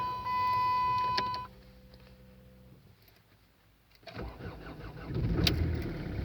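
A diesel export-version Chrysler PT Cruiser cranks and catches on a near-freezing cold start, with a steady electronic chime at first, a quiet lull, then the engine firing up and running rough and loud nearby.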